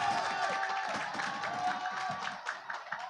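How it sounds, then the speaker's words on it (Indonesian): An audience at a school debate competition semifinal in Jakarta claps in a soft, dense patter that carries on for the whole few seconds, fairly faint and distant. "Boleh berikan tepuk tangan untuk sesi semifinal yang kedua ini."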